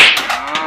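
A comedic cow moo sound effect, a single loud drawn-out bellow heard alone with no talking.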